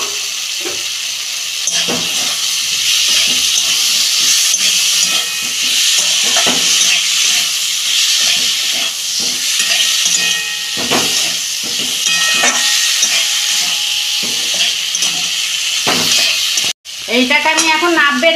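Vegetables for Govindobhog rice khichuri fry and are stirred in a pan, a steady loud sizzle with scraping strokes running throughout and a brief break near the end.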